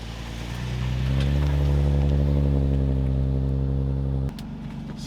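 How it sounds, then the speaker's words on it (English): Nissan V35 Infiniti G35 idling steadily with a low, close engine drone, fitted with new BC Racing coilovers, then pulling away as the note drops sharply near the end. "So we're just going for a drive now just to see how it feels"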